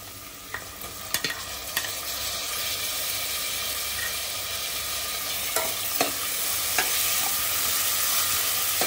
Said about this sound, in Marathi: आता आपण टोमॅटो घालूया।